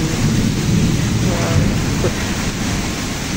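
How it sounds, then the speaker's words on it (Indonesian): Heavy rain pours steadily near a building housing aquarium shops, a dense, loud roar with low thunder rumbling beneath, no talk. "hujannya cukup deras"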